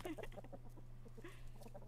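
A chicken clucks in a short series of soft, choppy calls over a steady low electrical hum, faint and heard through playback of an animal video.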